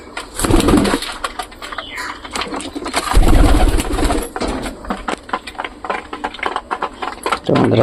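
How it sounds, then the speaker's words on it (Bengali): Pigeons come down to feed on grain with repeated bursts of flapping wings and some soft cooing, loud and close, rising and falling in uneven waves. "সব কবুতরগুলো ধীরে ধীরে নামতেছে।"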